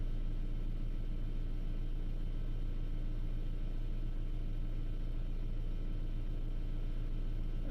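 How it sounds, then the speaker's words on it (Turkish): A Fiat Linea car engine idles, a steady low hum that stays even and constant throughout, with no talking. "Araç şu an rölantide çalışıyor."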